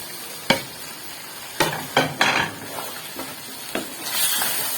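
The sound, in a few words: cauliflower added and stirred into a cooking pan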